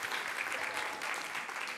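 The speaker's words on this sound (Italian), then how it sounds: "Un applauso anche per lui, per favore." A live audience at an innovation conference talk claps warmly for a co-presenter, a brief, even burst of applause at moderate distance with no voices over it.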